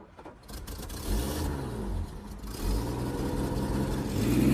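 A 1960s limousine engine runs and revs nearby, its low mechanical note swelling in several rising pulls with steady running between them and a stronger rev at the close, with no talk.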